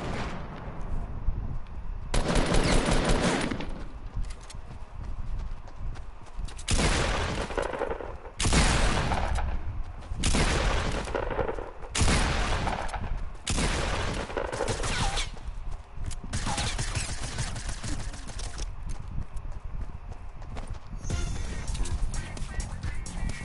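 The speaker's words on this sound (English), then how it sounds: "Oh, I hear fucking explosions," Video game battle with repeated explosions and bursts of gunfire, loud booming blasts recurring every second or two over a continuous crackle of distant shooting, with a voice talking at times.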